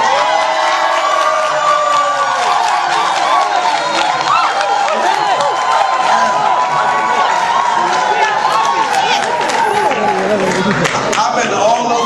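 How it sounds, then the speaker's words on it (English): A large crowd at a UK business launch event applauds and cheers together, a dense, steady wash of clapping with scattered shouts, loud and close throughout. "I never got an applause like that."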